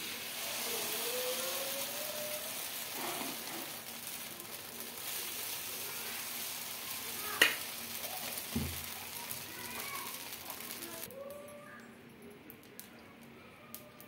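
Dosa batter sizzling on a hot pan over a high flame as a spongy dosa cooks, a steady soft hiss through most of the clip with a few brief clicks, fading quieter toward the end.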